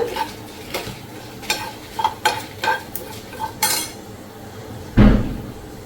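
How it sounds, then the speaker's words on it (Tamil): Cinnamon and cardamom dry-roast in a pan as a spoon clinks and scrapes against the metal in a run of sharp taps, over a faint sizzle, ending in one heavier knock. "ஒரு பட்டை, 2 ஏலக்காய். நல்லா வறுத்துக்கலாம்."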